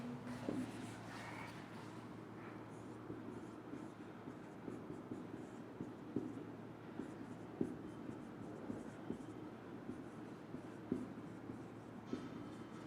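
Chalk or marker writes steadily on a board during a chemistry lesson, a continuous scratchy scraping with small taps, heard under a constant room rumble and hiss.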